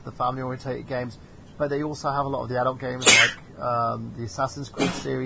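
A single sharp sneeze bursts out midway through a relaxed conversation about video games, loud and close, with talk continuing before and after it.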